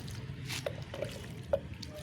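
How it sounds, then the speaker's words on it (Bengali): Water poured gently onto a potted flowering plant, a faint, soft trickle with a few small drips and squishy soil sounds, quiet and close with no talking. "এখন একটু হালকা করে জল দিয়ে দেবো"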